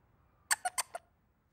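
A dog's squeaky toy gives four quick, sharp squeaks in a row, high-pitched and fairly close, set against near silence.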